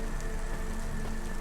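Steady rain pours down in a futuristic, neon-lit city in the video game Cloudpunk, a dense continuous hiss with a low rumbling bed and no breaks, heard alone without voices.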